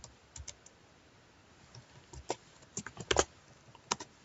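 Light typing on a computer keyboard, scattered irregular keystrokes with brief clusters, close and fairly quiet against low room noise.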